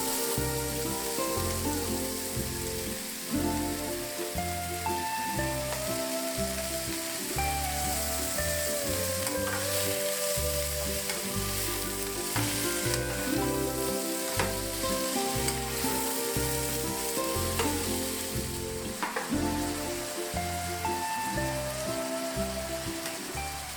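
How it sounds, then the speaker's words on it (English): Seafood mushrooms (snow white mushrooms) with sesame oil and snow peas fry in a pan for a stir fry, giving a steady, loud sizzle with stirring clatter throughout and no talking. "and let that fry for another minute"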